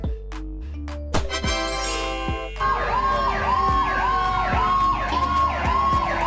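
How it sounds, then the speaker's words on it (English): Fire truck siren: a few sharp horn blasts open, then a loud, fast-cycling yelp repeats steadily over a low engine rumble. "The siren warns cars to move aside quickly."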